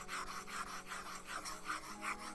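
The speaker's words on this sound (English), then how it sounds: "the pen nib is somewhat noisy when drawing" Pen nib scratching across the textured surface of a Wacom One S CTL-472 drawing tablet, a quiet rasping rub in repeated back-and-forth strokes, close and steady with no voices.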